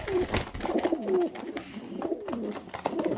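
Show pigeons on a display table at a bird show coo close by in soft rolling, wavering calls that overlap continuously, with no talking.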